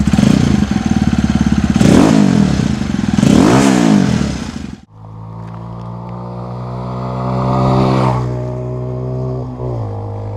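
A 125cc motorcycle with a dual stainless steel exhaust roars and revs hard a few times up close, then settles into a deep, throaty idle with a light blip of the throttle.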